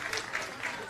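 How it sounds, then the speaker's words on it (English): Applause from an audience at a credit union's annual general meeting, greeting a prize winner: a steady wash of clapping hands across the whole moment, moderately close, with no break in the sound. "Give her a round of applause"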